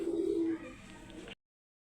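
A soft, low coo from a Hungarian Budapest flyer pigeon close by, a single throaty call that fades into quiet rustling before cutting off.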